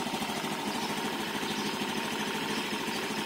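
A Honda Genio scooter idles in the morning, its engine running steadily with an even, rapid low pulse that stays constant and close throughout, with no voices over it.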